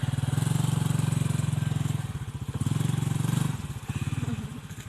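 A motorcycle engine putters nearby with a rapid, pulsing idle that rises and falls in steady cycles.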